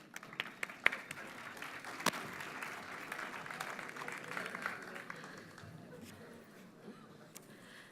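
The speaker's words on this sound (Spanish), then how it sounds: "Un aplauso para todos ellos, por favor." Audience applause at a conference panel on the present and future of audiovisual media, a fairly quiet, diffuse crowd clapping with a few sharper claps standing out, fading toward the end.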